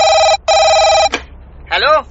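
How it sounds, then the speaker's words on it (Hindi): Telephone bell ringing in two long electronic bursts with a short gap between them, loud and close, followed by a brief voice. "उस कॉन्ट्रैक्टर का मुझे फोन आया"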